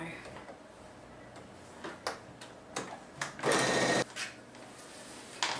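A sewing machine stitching quilt sashing gives short mechanical bursts and clicks, with one longer steady run of stitching, fairly close and quiet, while a person talks at moments.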